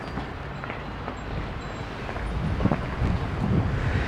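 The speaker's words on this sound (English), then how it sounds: "the wind's blowing everything away today." Strong outdoor wind buffets the microphone while a Mitsubishi 3000GT door lock is being repaired, a steady broadband roar with low rumble that swells slightly louder toward the end, no talk.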